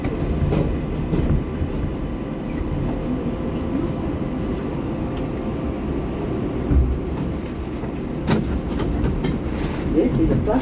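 An R188 7 local subway train on the way to Flushing Main Street runs steadily with a continuous loud rumble and rhythmic clacking over the rails, close and sustained throughout.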